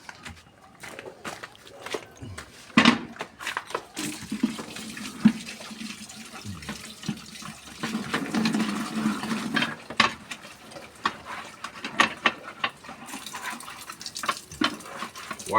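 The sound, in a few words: water running while washing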